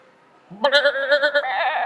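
A person imitates a goat with a short low vocal onset, then a sustained, wavering nasal bleat lasting over a second, close to the microphone.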